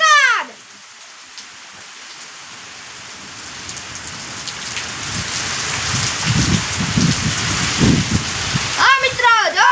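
Steady rain falls outdoors on surfaces, a dense continuous hiss with heavier splashing patches, growing slightly stronger over time, with voices talking briefly at the start and end.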